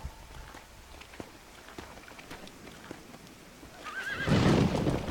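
A horse whinnies in the video game Red Dead Redemption on Xbox One, one rising neigh near the end after soft hoof clip-clops and light rain, moderately close, with no talking.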